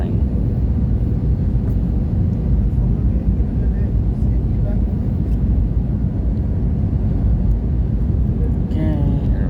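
Vietjet Airbus A320 landing under manual control, heard from inside the cabin as a steady, loud low-pitched roar of engines and airflow that continues without a break, with faint cabin sounds near the end.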